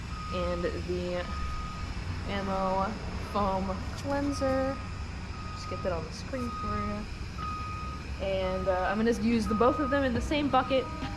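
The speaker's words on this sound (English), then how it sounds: "And I do apologize for the obnoxious construction noises." Intermittent electronic reversing beeps from a construction vehicle at a nearby building site sound in repeated short bursts throughout, with distant construction rumble beneath, while a person talks over them nearby.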